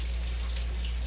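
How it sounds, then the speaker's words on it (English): Running water splashes and trickles through a strainer as canned carrots are rinsed, with a brief, steady patter over a low constant hum. "Pour them in a strainer, and you rinse canned goods."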